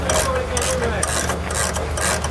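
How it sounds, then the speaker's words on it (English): A ratchet works on the park brake cable bolt of a Nissan Xterra during a rear hub seal and bearing job, giving a close, steady rasping click-and-grind over a low background hum for a couple of seconds. "So I'm gonna tighten the bolt for the park brake cable"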